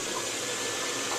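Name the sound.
Whirlpool Duet Sport washer running, filling tub with water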